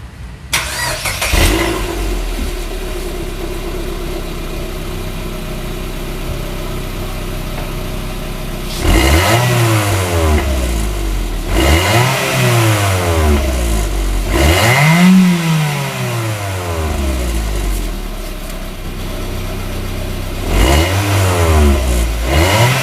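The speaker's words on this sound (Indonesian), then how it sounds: "Kita tes ya apakah suaranya berubah seperti knalpot racing" A Mitsubishi Xpander with a perforated exhaust starts and idles with a low rumble, then revs hard in several distinct rising-and-falling bursts, loud and close, with idle between each rev.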